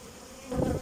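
Honey bees swarm around freshly opened hives, a close, brief buzz that swells up loudly for a moment.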